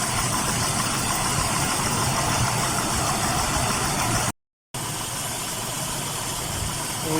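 A Dodge Charger engine idles roughly with a misfire on cylinder number 6, a loud, steady mechanical drone with uneven vibration, interrupted by a brief dropout midway.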